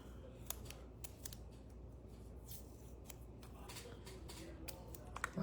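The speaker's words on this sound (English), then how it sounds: "I'm gonna go on ahead and tear a couple of pieces of washi tape." Short pieces of washi tape are torn off by hand during card making, heard as quick, faint crisp rips and crackles close to the mic, with no talking.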